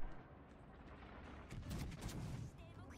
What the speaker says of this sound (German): Schießen direkt auf die Bayern hier auf jeden Fall